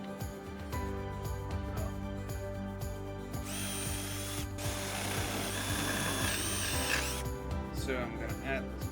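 A power drill drives screws into an oak cupboard in short whirring bursts, with a longer run near the middle. Clicks and handling noises fall between the bursts, and a voice is faintly present.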